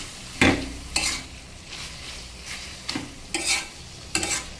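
Stirring bottle gourd greens frying in oil: a utensil scrapes and stirs the pan in repeated strokes over a soft, steady sizzle, close by with no voices.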